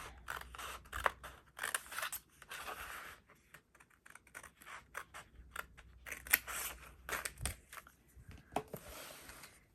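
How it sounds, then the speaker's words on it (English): Scissors snip through paper in quick bursts of crisp cuts, close by, with short pauses between runs of snipping. "come down through here with my scissors, since it's a straight cut"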